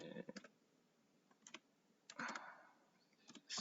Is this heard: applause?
no